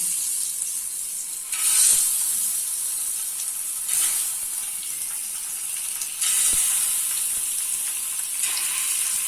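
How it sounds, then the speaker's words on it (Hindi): Eggs frying in masala with red chili powder and turmeric in a pan on low flame, a steady soft sizzle and hiss that swells in bright bursts as they are stirred or turned. "एग्स को हम लोगों को अच्छा कलर आने तक लो फ्लेम पे फ्राई करना है"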